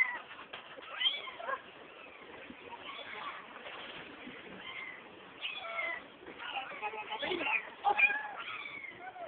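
Several small, high-pitched meows from homeless kittens repeat irregularly, close and fairly soft, with voices talking quietly in the background.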